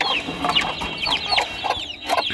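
Desi hens cluck repeatedly in quick, uneven bursts in a cage after laying eggs, close and fairly loud, with no voices.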